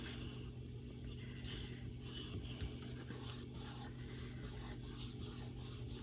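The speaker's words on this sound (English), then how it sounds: "Just going to crease it, make sure it gets all that glue." Folded paper with glue inside is pressed flat with a finger or tool, making soft, steady rubbing strokes in a quiet room with a faint background hum.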